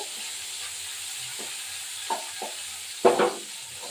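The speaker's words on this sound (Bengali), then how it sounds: "এই চারটা চারটা মোরলা মাছগুলো এবার আমি একটু ভাজা করলাম" Four morola fish frying in hot oil, heard as a steady sizzling hiss with a few louder spatters and pops near the end.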